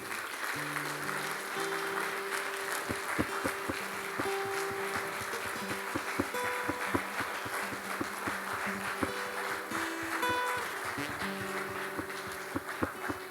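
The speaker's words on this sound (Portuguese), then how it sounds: "Você pode aplaudir o nome do Senhor nessa manhã?" A church congregation applauds during a morning service, a dense, sustained wash of clapping held steady under organ or keyboard chords.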